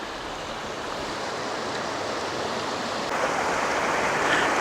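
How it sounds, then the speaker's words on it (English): A mountain creek below Catawba Falls near Old Fort, North Carolina, rushes steadily beside a wooded trail, a broad, unbroken wash of flowing water that grows slightly louder toward the end, with no voices. "this is the creek coming down from the falls."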